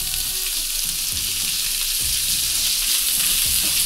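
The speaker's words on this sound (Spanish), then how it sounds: "Ya hemos sellado el brócoli más o menos unos 5 o 7 minutos a fuego medio o medio alto y vamos a agregar la espinaca" Broccoli and spinach sizzle in a pan over medium-high heat, a loud, steady crackling fry with occasional soft stirring scrapes, no voices.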